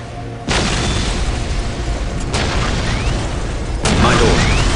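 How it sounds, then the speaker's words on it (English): Orc artillery in the Dawn of War battle game: a sustained, loud roar of explosions with sharp blasts marking each new impact, dense and continuous rumbling. "We will silence that Orc artillery."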